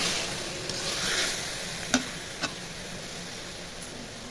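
Khesari greens tossed into hot oil with browned garlic frying in a pan, a steady close sizzle with a couple of sharp spoon knocks against the pan and quieter stirring scrapes.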